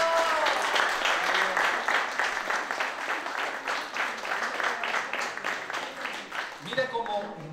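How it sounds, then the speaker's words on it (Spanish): Audience applause at a religious gathering, a dense, steady wash of clapping that stays fairly loud throughout, with a voice speaking briefly at the start and again near the end. "Un aplauso a las personas que lo crearon."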